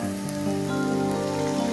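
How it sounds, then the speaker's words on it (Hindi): Water hits a hot pan of toasted walnuts and spinach, a steady loud hiss and sizzle running throughout without a break. "अब हम डालेंगे पानी"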